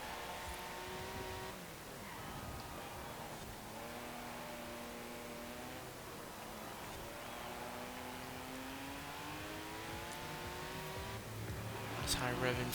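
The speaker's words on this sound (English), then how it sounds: "High revving flat 6 engine." A high-revving flat-six car engine in Forza Horizon 4 climbs and shifts through gears in repeated rising sweeps, racing steadily with a sharp burst near the end, while someone talks over it.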